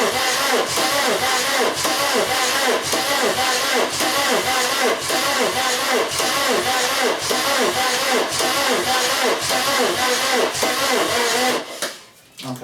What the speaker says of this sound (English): So that's enough cranking there for the moment.